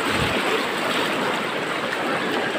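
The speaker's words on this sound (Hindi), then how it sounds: "इतना पानी है चल नहीं पा रहा" Floodwater rushing through streets in Asansol during a flood, a loud, steady broadband roar of flowing water that fills the whole stretch without pause.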